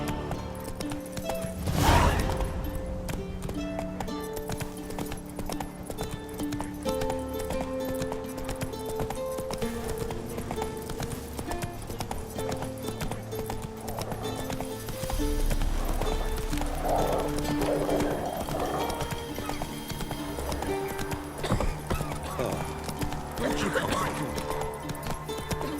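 Horse hooves clip-clopping at a steady gallop in The Witcher 3, with a brief whinny near the start, looping game music and a louder swell of hoofbeats later.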